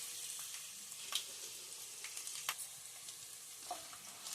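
Peanuts, dried red chillies, cumin and tempering spices fry in hot oil for Andhra-style mango rice, a soft steady sizzle broken by a few sharp pops and stirring clicks, close and with no talking.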